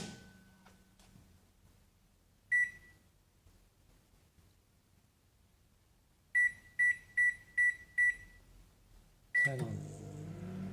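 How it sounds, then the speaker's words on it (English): A microwave oven with a 40 watt light bulb sitting in water inside gives short electronic beeps, first a single one, then a quick run of five, then another, before the oven starts up with a loud steady hum. "Put it in the microwave."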